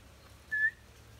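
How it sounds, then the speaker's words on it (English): A single short, clear whistled tone, steady in pitch, rising out of quiet outdoor ambience for about a quarter second. "Does anyone whistle better than me?"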